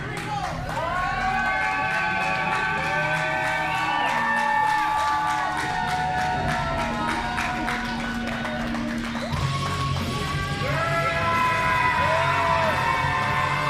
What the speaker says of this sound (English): the crowd is going nuts for the return of our longest reigning RMP champion